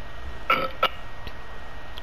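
Talking Ben, the cartoon dog from the mobile game, lets out a short burp, with two quick gulpy bursts close up and no talking.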